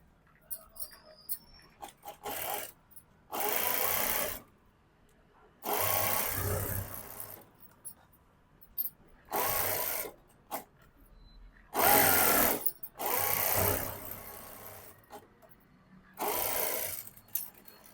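A sewing machine stitching blouse fabric and lining in repeated bursts of a few seconds each, whirring loudly up close, with quiet pauses and some talking between runs.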